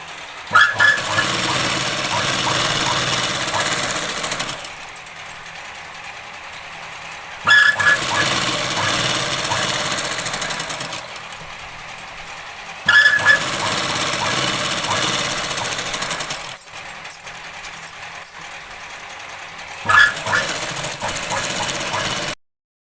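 A sewing machine stitches Punjabi dress pants, running in long rapid mechanical bursts separated by short pauses, close and steady, while someone talks over it.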